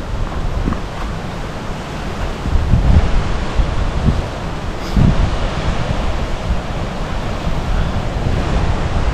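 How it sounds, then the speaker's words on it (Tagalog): Strong seaside wind buffeting the microphone over the roar of surf at a coral-rock campsite, a constant heavy rush with gusts swelling throughout. "Lakas ng hangin ngayon oh."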